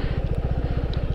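A Suzuki Gixxer SF250 BS6 motorcycle engine thrums steadily at low revs during a U-turn, a close, even pulsing beat with no talking.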